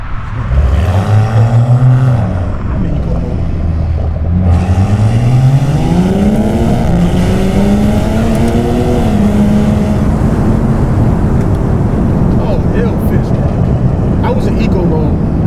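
A 500hp BMW engine at a gas station revs up with rising and falling harmonic sweeps, loud and close, with brief speech-like sounds over the continuous engine roar.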